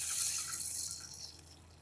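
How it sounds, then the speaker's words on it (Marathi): Water is poured into a hot pan of tempering with cumin, green chillies and curry leaves for khaman dhokla, a quiet continuous hissing splash that slowly fades. "आणि लगेच पाणी सोडणार आहे."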